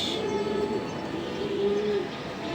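A racing pigeon coos softly in low, rolling phrases against a steady background hum, with no talking.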